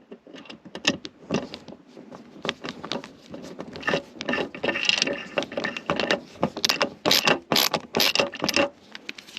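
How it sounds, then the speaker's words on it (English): Plastic arm rest being screwed into plastic trim inside a Toyota GR Corolla, giving close, irregular clicking and ratcheting bursts with creaky rubs, growing denser and sharper toward the end. "I've got to make sure that these holes line up before I just proceed to start screwing this into plastic."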